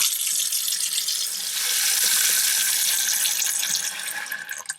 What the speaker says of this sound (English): I'm going to fill it with some water